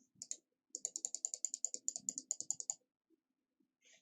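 Keys on a computer keyboard are pressed in a quick run of sharp, close clicks, one short tap first and then a steady rapid sequence, followed by a few faint scattered taps.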